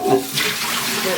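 Running water splashes steadily as an Instant Pot insert with silicone handles is washed under a tap, a close, continuous hiss and gurgle.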